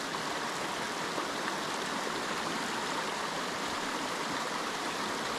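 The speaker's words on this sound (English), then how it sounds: "waterfall coming down" Waterfall in the Adirondacks, a steady, even rush of falling water over rocks that holds at a soft, constant level throughout with no voices.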